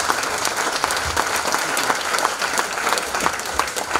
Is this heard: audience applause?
yes